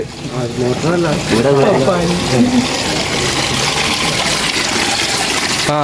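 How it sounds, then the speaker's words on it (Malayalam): An artificial waterfall pumped by a motor at a house in Kerala pours in a continuous, loud rushing stream, with people's voices talking over it during the first half. "വെള്ളച്ചാട്ടമൊക്കെ എങ്ങനെ ഒപ്പിച്ച്"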